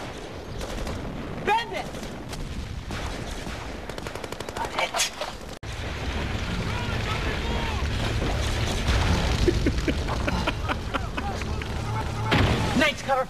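Sustained gunfire laying down cover in a scene from the Serenity pilot episode of the sci-fi series, with a rolling barrage of shots and booms under a voice calling out, preceded by scattered clatter and shouting.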